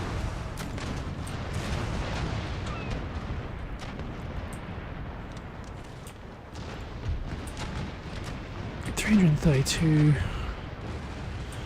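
Ship cannon firing round shot in the naval battle game Empire: Total War, a cluster of heavy booms rising out of a steady rumble of background battle noise, with someone talking over it.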